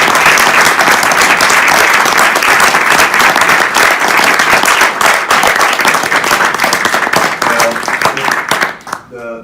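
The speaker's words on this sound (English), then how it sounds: "A round of applause for Jeff." Loud, sustained applause from a business school audience honouring a guest after a fireside chat, thick continuous clapping that tapers off near the end as a voice begins.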